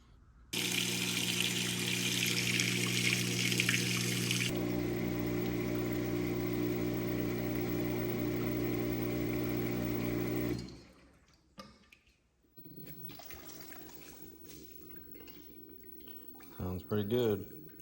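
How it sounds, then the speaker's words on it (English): An LG WM2455HG front-loading washing machine, fresh from a bearing replacement, runs a cycle filled with water: a loud, steady whoosh of sloshing water over a motor hum for about ten seconds, then quieter tumbling with a few clunks. "Run it through a cycle here."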